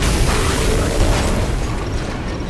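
A tank shell fires and explodes in the Lost Planet 2 video game during a train battle, a loud, sustained booming roar that fills the whole moment without letting up.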